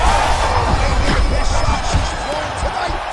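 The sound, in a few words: crowd cheering at a grappling fight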